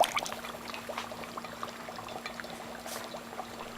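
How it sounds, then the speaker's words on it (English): Dry ice sublimating in water bubbles and churns steadily, with a continuous fizzing, gurgling wash of carbon dioxide bubbles heard close and alone. "you can hear a loud bubbling here, and this is because the dry ice is sublimating"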